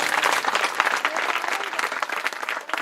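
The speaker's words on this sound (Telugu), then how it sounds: "నన్ను వారు చప్పట్లు కొట్టండి" An audience in a church at a Christmas gathering claps together in a dense, continuous burst of applause that lasts a few seconds at moderate distance.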